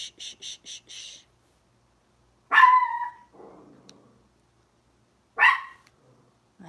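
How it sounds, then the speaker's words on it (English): A small dog gives a few sharp barks a couple of seconds apart, loud and close, with quiet pauses between them. "I hate the barking."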